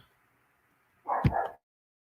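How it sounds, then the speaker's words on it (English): A pet dog indoors at home gives one short, loud bark close by, alone against an otherwise quiet room. "I don't know what she's barking at"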